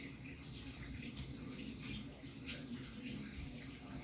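Potatoes are washed under a running kitchen tap, a soft steady gush of water with faint splashing, quiet and continuous, with no talking.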